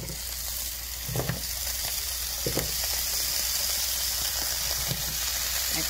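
Potatoes frying in olive oil in a hot pan, a steady close sizzle and hiss with a few soft clinks of stirring, no voices.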